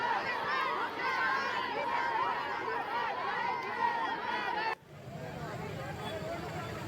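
A protest crowd at a collectorate in Jalore being driven off by police, heard as a steady, busy babble of many voices and movement, which cuts off abruptly into a quieter ambient hum.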